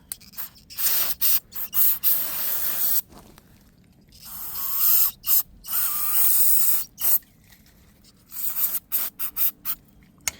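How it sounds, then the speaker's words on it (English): Brake cleaner sprayed from an aerosol can during brake work on an Impala, heard as repeated hissing bursts, some short and some sustained for a couple of seconds, close and loud with pauses between. "Now we're gonna grab a little brake cleaner here."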